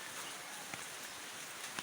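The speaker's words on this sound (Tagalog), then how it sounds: "Kay hantod karon kasige pag yung ulan" Steady rain falls during a spell of continuous downpour and rising flood risk, a soft even hiss with a couple of faint drips, fairly quiet and unbroken, with no voices.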